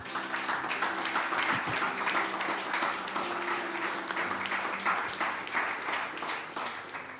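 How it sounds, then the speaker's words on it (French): A church congregation applauds and cheers during a sermon, a dense, sustained wash of clapping filling the whole stretch with no break. "Acclame le roi des rois."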